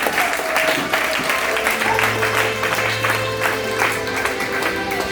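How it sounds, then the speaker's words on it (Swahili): Church congregation applauding during a worship service, steady dense clapping from a crowd that fills the whole stretch with a low hum beneath. "Pigia Yesu makofi mazuri"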